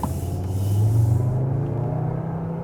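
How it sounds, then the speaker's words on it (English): Engine sound from a 2021 Skoda Kodiaq RS (vRS) with a 245 hp TSI engine and a sound actuator in sports mode, a steady, deep, droning hum from inside the cabin that swells briefly and then eases off. "When I put in the S shifting mode or go to the sports mode in the driving mode selection, then you also have this sound actuator"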